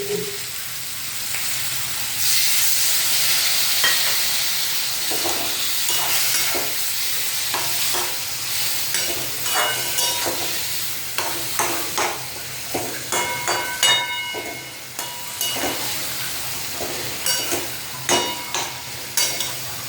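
Cumin-tempered spices with Kashmiri chilli, green chilli, ginger paste, coriander powder, tomato and salt sautéing in oil for an aloo potol curry, a steady sizzle broken by repeated scraping stirs that grow more frequent, with no talk.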